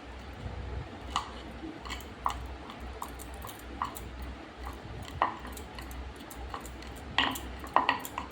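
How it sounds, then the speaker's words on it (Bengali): A knife finely chopping green chillies on a board: a close run of soft, irregular taps and clicks, with no talking. "কাঁচা লঙ্কাগুলোও আমি কুচি করে নিয়েছি খুব ভালো করে ফাইন করে আমি কুচি করে নিচ্ছি"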